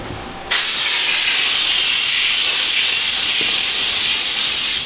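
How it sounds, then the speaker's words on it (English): Compressed air blasts steadily against an engine oil filter after a rebuild, a loud continuous hiss that starts abruptly after a brief quieter moment and holds unbroken to the end. "or blow it off right here"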